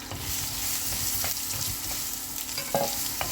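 Sliced onion frying in oil in a pan for a tomato curry, a steady close sizzle with a few soft stirring scrapes and clinks.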